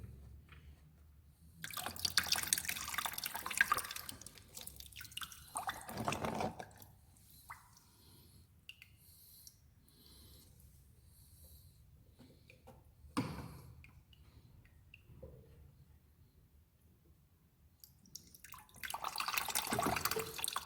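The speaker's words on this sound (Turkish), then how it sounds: "Buradan temiz su gelene kadar duruluyoruz." Water running and dripping while a scooter's cooling system is flushed through, coming in bursts of splashing flow separated by quiet stretches.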